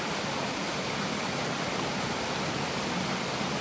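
Rapids on a creek along a lake-loop trail in Algonquin, a steady broadband roar of rushing water that holds constant and loud without pause, with no voices.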